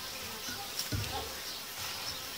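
Honeybees buzzing at an open hive during queen rearing, a close, continuous hum of many bees with a few brief knocks and no talk.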